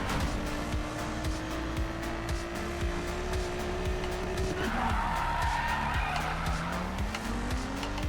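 Drift car in the video game Need for Speed Payback, built on a stock catch-up pack, skids with loud continuous tire squeal over a steady engine drone, the engine pitch shifting as the slide changes.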